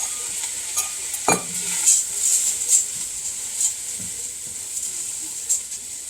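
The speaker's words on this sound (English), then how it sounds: "by putting the rice into the hot pan, it's just going to, again, seal it and get it nice and hot for us" Rice tipped into a hot pan for corn and bacon risotto gives a steady, close sizzle with light stirring scrapes and occasional utensil clinks against the pan, no voices.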